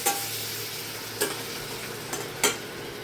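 Cumin-powder masala sizzling in a pan after water is poured in: a soft, low hiss broken by a few quick scrapes of stirring.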